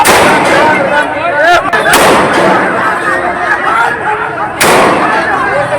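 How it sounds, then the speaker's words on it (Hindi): Police fire gunshots into the air during unrest in Bihar, several sharp loud cracks at irregular intervals amid crowd noise and voices. "बिहार की जहां बवालियों को संभालने के लिए पुलिस ने हवाई फायरिंग कर दी।"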